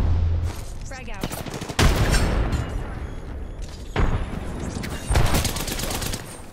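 Gunfire in Apex Legends comes in rapid automatic bursts and heavy shots, with loud impacts at several points and a brief rattling sound early on. A voice is faintly present under the shooting.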